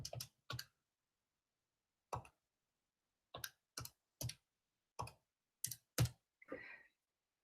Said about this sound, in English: And then typing it into the calculator.